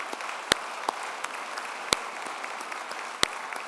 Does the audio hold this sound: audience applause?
yes